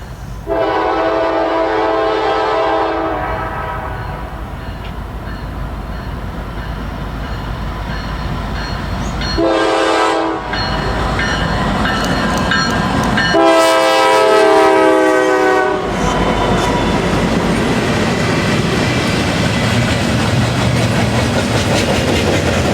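A freight train passes close by near Reading, Pennsylvania, its loud horn blaring in several long blasts over the steady roar and clatter of rolling cars.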